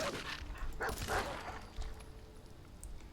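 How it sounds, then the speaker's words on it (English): A dog in the video game Fallout 4 gives a few short barks and whimpers amid dense in-game ambient noise, fairly close and moderately loud. "Oh, there's the dog."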